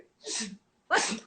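Two sneezes in quick succession from a woman during a live chat, the second louder and sharper, close up with a pause between them.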